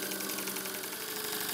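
Stuart model steam engine running at speed and driving a small generator: a dense, steady mechanical whirr and rapid clatter with a faint hum, close and continuous without pause.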